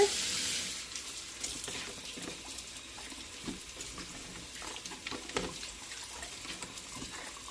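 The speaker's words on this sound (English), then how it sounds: "I'm going to go ahead and rinse this off with lukewarm to cold water." Tap water runs over large jalapeno peppers being rinsed under lukewarm to cold water in a kitchen sink, a steady splashing hiss with uneven spatters as the peppers are turned; no talking.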